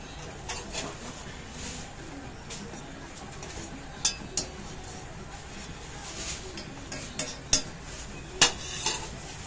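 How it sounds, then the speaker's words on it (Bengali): Maggi noodles cook in a pan, a faint low sizzle running throughout while scattered sharp clinks of a utensil against the pan punctuate it, louder toward the end. "এই যে এখানে ম্যাগি বানাচ্ছি।"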